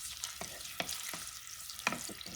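Serrano ham simmering gently in a pot for a Puerto Rican red bean stew, with a soft steady sizzle and several distinct spoon-stirring scrapes and clinks at irregular intervals, close and fairly quiet, no talking.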